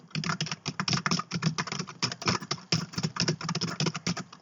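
Someone types fast on a computer keyboard while playing a horror video game, a close, busy run of clicky key presses with short pauses between bursts.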